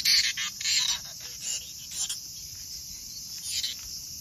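A Minmin cicada (Hyalessa maculaticollis) calls on a summer day in Toyohashi, giving a faint, buzzing, pulsing drone that swells and fades in short bursts against a quiet background.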